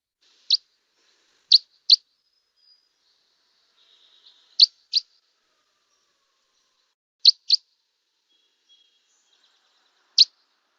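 Red crossbill type 4, a Douglas fir specialist, gives sharp, isolated chip calls, several spaced singles and close pairs, clear and moderately near against a silent background.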